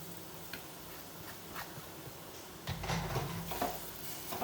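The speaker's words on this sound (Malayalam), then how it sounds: "മുരിങ്ങേൻ്റെ ഇല ഇട്ടിട്ട് ഒന്ന് വഴറ്റണം" Drumstick leaves being sautéed in a pan at home, a soft steady sizzle with light stirring scrapes and clinks, growing louder and busier partway through.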